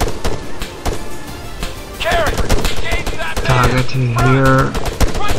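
Rapid bursts of rifle fire crack through an ARMA 3 military game battle, loud and close, with someone speaking over the shots.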